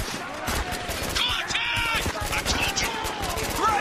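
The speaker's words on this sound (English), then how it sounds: "this is like a freaking automatic gun" Automatic gunfire in the Spec Ops: The Line video game, dense rapid bursts of shots that are loud and continuous, joined by other battle effects.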